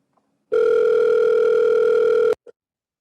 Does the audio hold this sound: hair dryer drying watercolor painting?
no